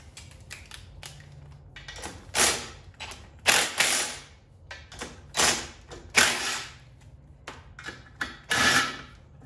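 Socket ratchet wrench clicking on a nut of a 79cc mini bike engine, sounding in several separate bursts of rapid mechanical clicks with brief pauses between, close up.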